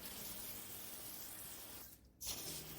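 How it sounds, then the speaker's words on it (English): A garden hose sprays water onto a car wheel rim, a steady hissing spray that cuts out briefly near the end and then resumes. "and then I'll go in a stream of water to it"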